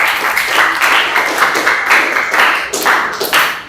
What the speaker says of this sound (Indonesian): beri tepuk tangan untuk Naira ya